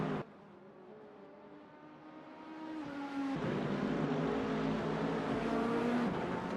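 Hypercars in an endurance racing video game at Portimao sweep past with a rising, sustained engine drone that swells and holds steady, building from moderate to loud with no talk over it.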